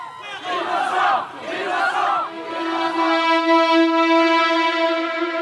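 A large crowd outside a courthouse after a verdict shouts in unison, a loud, rising chant that swells into a sustained, ringing collective cry.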